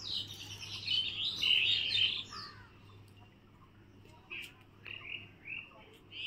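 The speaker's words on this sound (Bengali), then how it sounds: "ছাদে আসলে বেশ পাখির আওয়াজ পাওয়া যায় অনেক।" Birds chirp and call on a rooftop, a burst of close twittering at first, then a few sparse chirps over quiet background hum.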